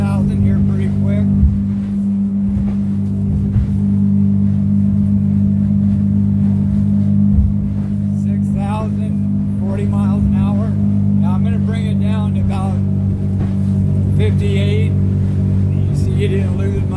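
A Hewes Searunner 190 boat's outboard engine holds a steady, loud drone while being run up toward 6,000 RPM, a continuous engine hum dominating throughout with someone talking over it.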